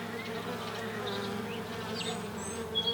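Honeybees buzz steadily around an open hive, a dense low drone with occasional individual bees passing close by, continuous and fairly faint with no talk.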